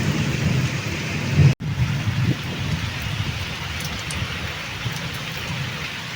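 A rainstorm hisses steadily as thunder rumbles low and heavy at the start, then fades into the continuous patter of rain on leaves and a pond.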